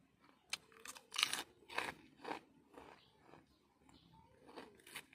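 Close, crisp crunching of classic potato chips being chewed in a series of irregular bites, sharp and dry against a quiet background.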